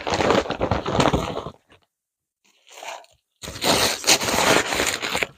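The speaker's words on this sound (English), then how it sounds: "we have the bag, which will be folded over because it's a big bag" Loud crinkling and crackling of a large plastic bag being handled and folded, two bursts separated by a short quiet rustle.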